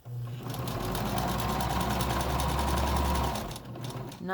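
A sewing machine stitches elastic onto a fabric face mask, running steadily with a smooth continuous hum and rapid needle rhythm for about three seconds before winding down.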